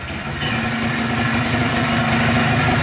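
A KTM 500 motorcycle engine runs close by right after an electric start, a loud, steady idle with a firm low throb that builds slightly in the first moment.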